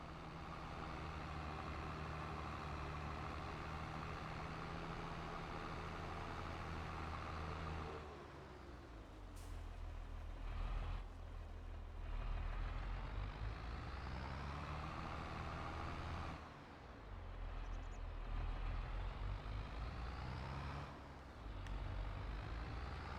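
A truck engine in the farming game The Old Farm Countryside runs at a steady low rumble, moderately close, with a few brief dips and shifts in tone as it drives on.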